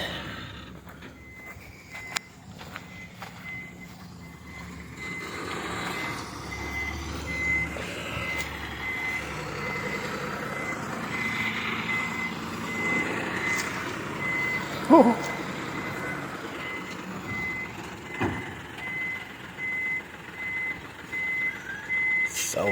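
A trailer truck carrying concrete piles reverses beside the Mekong River, its steady repeating reversing beeps sounding over low engine rumble and outdoor ambience, with an occasional air-brake hiss.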